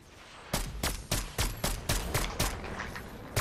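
Rapid gunfire in a no-build battle royale video game, about ten evenly spaced sharp shots over a few seconds, loud and close with no talk over them.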